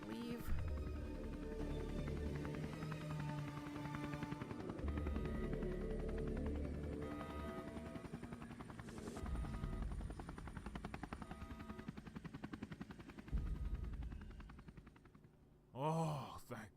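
Aircraft drone from a plane passing overhead in the Neofeud video game, a sustained rumbling roar that holds steady for most of the stretch and fades near the end, with layered tonal game audio and a brief burst at the close.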